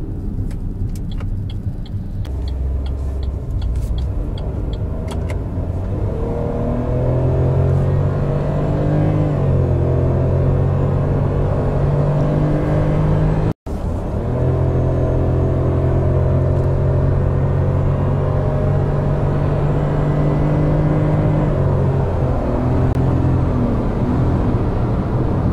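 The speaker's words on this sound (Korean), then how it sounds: "제가 여기서부터 좀 RPM을 좀 살려서 오르막 구간에서 제가 가속을 한번" A Chevrolet Spark engine rumbles loudly from inside the car as it accelerates uphill, its revving tone climbing again and again. The sound cuts out briefly midway, then the strained droning returns.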